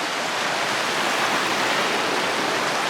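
Peru Creek rushing over rocks on the Continental Divide Trail, a dense, steady roar of flowing water heard close and loud without any voices.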